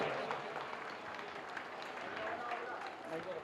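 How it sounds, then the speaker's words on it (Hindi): An audience claps for a children's song performance at a community celebration, a faint, distant patter of applause mixed with voices talking over it. "तालियां बजा दीजिएगा"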